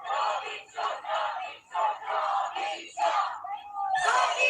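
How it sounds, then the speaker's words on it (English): Large crowds in Australia celebrating and dancing, heard as loud bursts of cheering and shouting that come in waves separated by short lulls, with many voices blending together. "let's come back to Australia and have a look at large crowds celebrating"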